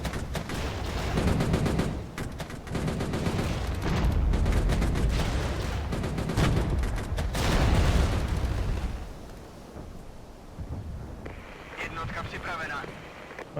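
Troops in the Regiments video game fire a long, dense volley of gunfire, loud and rattling for several seconds before dropping to quieter distant shots.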